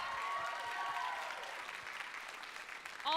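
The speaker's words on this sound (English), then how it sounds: "Another round of applause for Emma Rolling" Show choir concert audience applauding a performer, steady dense clapping with a faint high vocal tone over it at first, moderately distant and soft, thinning toward the end before a voice begins.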